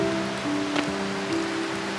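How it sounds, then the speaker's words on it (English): Heavy rain pouring down on a walk near the Tarr Steps river crossing, a loud, steady, dense hiss of drops with no talk. "It is raining quite heavily."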